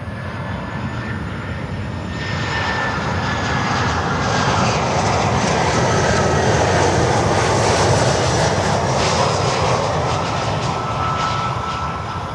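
Jet engines of a Boeing 737-400 roar steadily near an airport runway, the sound swelling to a peak midway and then slowly easing off.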